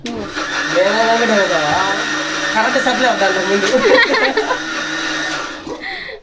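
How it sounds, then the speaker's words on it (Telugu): A small kitchen mixer grinder runs on tomatoes, giving a steady high motor whine that fills the room while people talk loudly over it, then cuts off at the end. "ఆ చిన్న మిక్సీలోనే కొద్ది కొద్ది కొట్టుకుంటే అయిపోతుంది"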